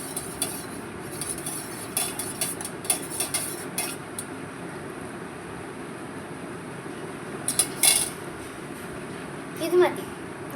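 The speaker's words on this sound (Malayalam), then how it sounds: "കുറച്ചും കൂടെ ഇളക്കാം." A spoon stirs lemonade in a glass, making light, irregular clinks and scrapes. A voice talks over it and a steady fan-like hum runs underneath.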